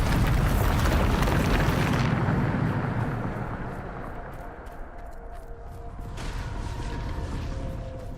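A Bombarda spell explosion in Hogwarts Legacy: a loud, sustained roaring blast that dominates the opening seconds and then rumbles and crackles on as debris settles, with a second swell of noise near the end.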